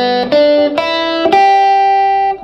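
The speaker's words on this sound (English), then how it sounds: "Let's get started by reviewing the minor pentatonic scale" A Stratocaster electric guitar in open position picking a few clean notes of the minor pentatonic scale, each note ringing and overlapping, loud and close with no talk.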